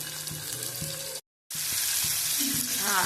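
Tomato sizzling and frying in a hot pan for chitranna, a loud continuous crackle broken by a brief silent gap, with stirring clatter underneath.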